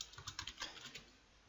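Quiet typing on a computer keyboard while coding a Unity C# script, a quick burst of about a dozen light clicks that thins out and stops after roughly a second.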